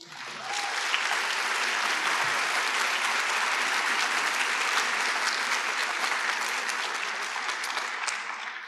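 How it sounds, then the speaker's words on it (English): Audience applause at a Tulsa mayoral forum: a dense, steady wash of many hands clapping that holds at an even, loud level for the whole stretch without a break. "Can we please give them a round of applause?"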